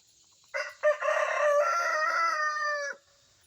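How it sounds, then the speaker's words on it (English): A rooster crows at a chicken house, one loud, close, drawn-out cock-a-doodle-doo of about two and a half seconds that begins with two short bursts and then holds a long strained note, with no talk. "You give us another crow?"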